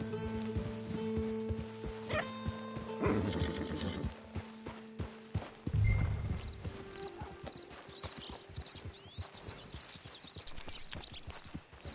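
Horse hooves clip-clop in an uneven rhythm in Red Dead Redemption 2 Online, alongside game sound effects and tonal chimes, with a few louder thuds and a brief rumble midway.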